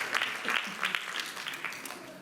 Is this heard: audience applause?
yes